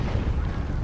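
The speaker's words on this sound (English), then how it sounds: "Fire Prism. Taking big, big shots." Eldar Fire Prism tank firing heavy shots in Dawn of War 2, a dense, loud, low rumbling barrage of booming blasts in a continuous stretch of battle noise.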